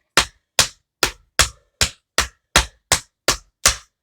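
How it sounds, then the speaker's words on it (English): Tap dance shoes strike a hard floor ten times in a front essence break, sharp crisp clicks spaced evenly about every half second, close and loud with no talking. "Step, flap, step, brush, step, step, flap, step."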